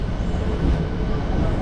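An MMTS local train rolls into Secunderabad station, giving a steady, loud low rumble that holds evenly with no clear wheel beats.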